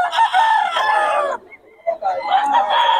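Rooster crowing, close and loud, two long crows separated by a brief pause, with no talk over them.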